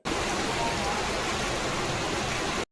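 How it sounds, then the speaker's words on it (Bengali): Heavy rain pours down in a steady, dense hiss that stays even from start to end, close and fairly loud with no voices over it. "এবারে পুরো প্রপারলি বোঝা যাচ্ছে যে বৃষ্টি হচ্ছে বলে"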